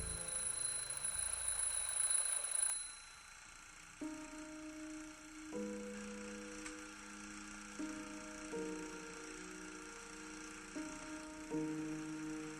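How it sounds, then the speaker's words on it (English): An alarm clock rings, starting with a brief bright buzzing burst and then playing a repeating series of clear melodic tones at moderate volume, with no voices. "The alarm went off."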